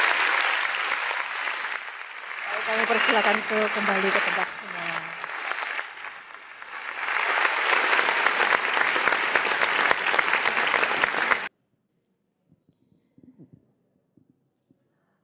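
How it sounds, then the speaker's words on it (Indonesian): An audience at a government technical workshop on stunting reduction applauds steadily for about eleven seconds. The clapping cuts off abruptly, and a presenter then speaks quietly. "Kita berikan tepuk tangan yang meriah ya."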